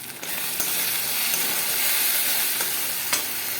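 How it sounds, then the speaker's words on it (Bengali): Turmeric, chilli, cumin and coriander powders frying in oil for a katla fish curry, stirred in the pan: a loud, dense, close sizzle with occasional scraping knocks of the spoon. "ধনে গুঁড়ো দিয়ে ভালো করে মশলাটাকে আমরা নাড়িয়ে দেবো"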